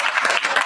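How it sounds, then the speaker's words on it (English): Audience applause at an event about the Fly North Aviation crew and their Forest Service aerial fire missions, a short burst of dense, steady clapping close by with no talk over it. "one more round of applause for these guys"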